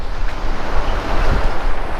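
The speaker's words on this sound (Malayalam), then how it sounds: "അതിൻ്റെ അടിയിൽ കൂടെ വെള്ളം ഒഴുകി പോകുന്ന സൗണ്ട് നമ്മൾ കേൾക്കുന്നത്" Water flows beneath the Anayirangal Dam in a dense, roaring rush, loud and continuous, buffeted by wind noise on the microphone.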